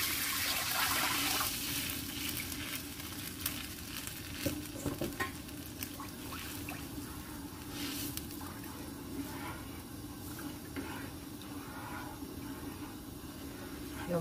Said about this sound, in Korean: 살짝 볶다가 물을 1리터 정도만 둘게요.